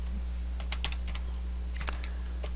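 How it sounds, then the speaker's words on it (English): Typing on a computer keyboard: a quick run of light key clicks, then a second short burst, close and fairly quiet over a steady low electrical hum. "I'm going to type in something new"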